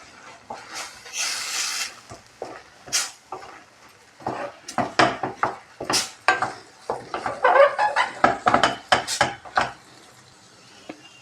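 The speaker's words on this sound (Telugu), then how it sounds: "ఇలా మధ్యలో కలుపుకుంటూ ఉండాలి, లేకపోతే అడుగంటిపోతుంది అనమాట." A carrot mixture frying in a pan is stirred with a utensil, giving repeated scraping and clinking strokes in an uneven rhythm with a soft sizzle underneath, close up and moderately loud.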